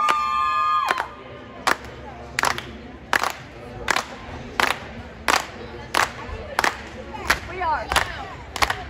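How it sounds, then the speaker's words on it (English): Spectators at a track meet clap in unison for a jumper in a finals competition, sharp evenly spaced claps roughly every second, ringing in a large indoor hall, after a brief burst of crowd noise with a short spoken line at the start. "There's another little clap going on."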